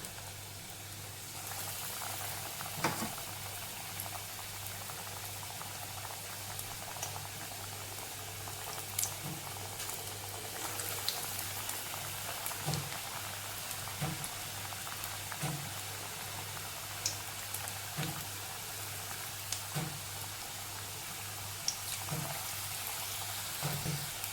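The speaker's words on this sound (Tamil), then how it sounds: "எண்ணெய் காஞ்சிட்ருக்கு, போடலாம்." Spoonfuls of snack batter frying in a pan of hot oil, a continuous dense bubbling crackle with small scattered pops, steady and fairly quiet throughout with no talk.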